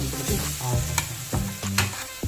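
Nendran banana pieces being lightly sautéed in a pan for wheat payasam, with a soft sizzle under repeated scraping stirs and spoon knocks.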